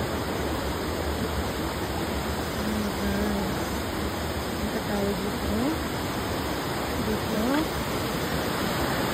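Waterfall at Quezon, Nueva Vizcaya: a steady, dense roar of rushing water, constant and close, with a person talking faintly over it.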